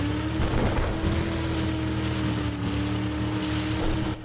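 A boat engine in a video game drones steadily with a low, constant hum, mixed with wind and water rush, loud and close for the whole stretch.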